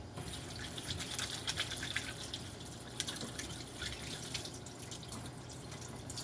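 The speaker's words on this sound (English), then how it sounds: "I'm going to wash my hands." Hands are washed under a running tap after handling cayenne, with a soft, continuous patter and splash of water at low level and no voices.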